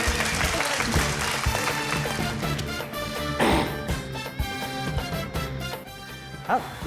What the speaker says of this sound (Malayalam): എല്ലാവരും ഒന്ന് കൈയടിക്കുക.